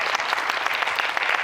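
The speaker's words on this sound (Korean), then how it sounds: "이재행 배우의 수려한 해석에 역시 또 큰 박수 보내드리겠습니다" An audience at a film screening discussion keeps up a brief, steady burst of clapping from many hands at moderate loudness, with no break in it.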